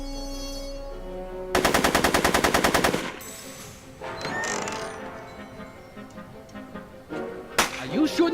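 Gunfire in the Back to the Future Telltale video game: a loud rapid burst of automatic shots lasting over a second, followed by scattered mechanical clatter and a couple of sharp cracks later.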